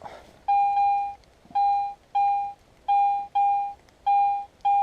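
A metal detector sweeping over a steady target in a Scottish bottle dump gives a series of loud, even electronic beeps, about eight tones in a regular rhythm, close and clear over faint background.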